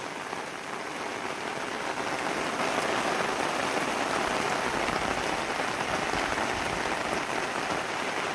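Heavy monsoon rain pours down in the Konkan countryside while cows are being herded, a dense, loud, unbroken patter of drops on surfaces that swells slightly after the first couple of seconds.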